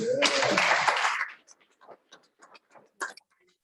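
A brief burst of applause rises from the audience at a school district board meeting honoring scholars, lasting about a second before fading to scattered small sounds and quiet talk.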